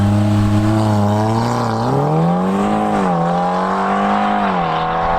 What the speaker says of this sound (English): that exhaust actually sounds so good